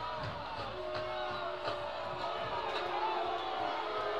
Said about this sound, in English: Crowd not liking that too much.